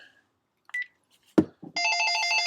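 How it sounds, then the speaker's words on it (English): A telephone starts ringing in a classroom after a few brief knocks and clicks, its steady electronic ring tone carrying on to the end, moderately loud with no talking. "the phone's ringing"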